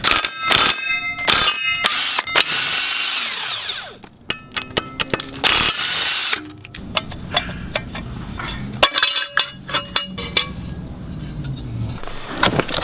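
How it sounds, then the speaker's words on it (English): Ratchet wrench loosening flex plate bolts from a crankshaft during a Lexus IS300 manual transmission swap, metallic ratcheting bursts and clinks in irregular runs with short pauses, close and sharp. "We still have the flex plate connected to the crankshaft, so we need to take out these bolts."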